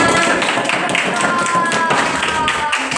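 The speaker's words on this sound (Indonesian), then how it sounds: "tepuk tangan buat kalian semuanya" Students in a classroom give a round of applause, a steady patter of many hands clapping close by with voices mixed in.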